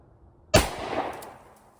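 A single sharp report from a Smith & Wesson Model 10 revolver firing a rat shot shell at an outdoor range, loud and close, followed by a brief decaying echo.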